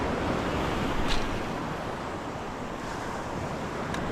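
Big ocean waves breaking on the surf at Boca Chica Beach, heard as a steady, loud wash of surf with wind buffeting the microphone and a slightly stronger surge about a second in.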